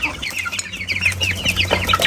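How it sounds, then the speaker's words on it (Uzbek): Roosters and hens at a poultry yard cluck in busy, overlapping calls, with a steady low hum running beneath; nearby and fairly loud throughout. "Xo'rozi ko'p ekan o'rtoqlar."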